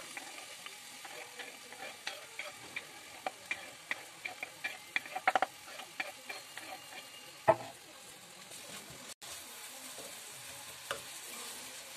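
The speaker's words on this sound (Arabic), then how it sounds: "غادي نخلي هاد البصله هادي تشحر" Onion and garlic fry quietly in a pan for a red-sauce spaghetti, a soft sizzle under a string of light clicking spoon taps and scrapes.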